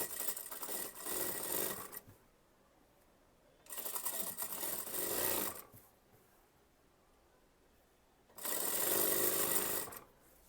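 A sewing machine runs a folded hem on an Anarkali kurti in three loud, steady bursts of stitching, each about two seconds long, with quiet pauses between them.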